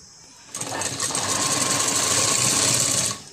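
Sewing machine stitching a sleeve, a fast, steady mechanical whir with rapid needle chatter lasting about two and a half seconds, close and alone, then stopping.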